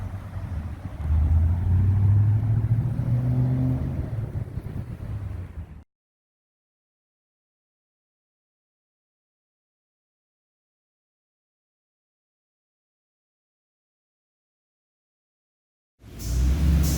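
A 2010 Ford Mustang GT pulls up with a low engine rumble for several seconds, then a long stretch of silence before the engine sound returns briefly.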